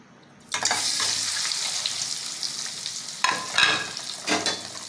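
Masala-coated eggs drop into hot oil with a sudden loud burst of sizzling that continues steadily, swelling again with a few stirring surges near the end.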